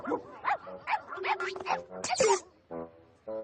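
A dog barks and yips in quick, excited bursts, mixed with whimpering and overlapping voices, followed by a short pause and a tonal cry.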